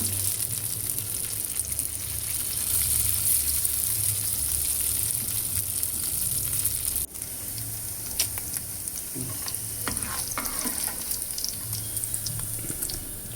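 Paneer cubes fry in hot oil in a pan for paneer biryani, a steady loud sizzle running throughout with a few light scraping and turning sounds toward the end.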